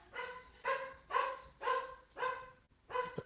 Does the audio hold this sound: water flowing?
no